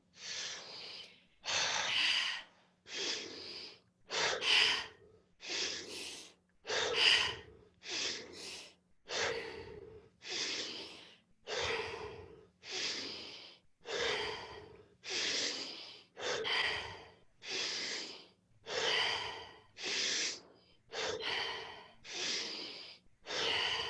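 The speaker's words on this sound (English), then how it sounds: "So let's do 20 rolling breaths together, starting with your inhale." Deep rolling breaths in a guided breathing exercise: about twenty full inhale-and-exhale cycles in a slow, even rhythm, each a close, airy rush with brief gaps between, and no talking.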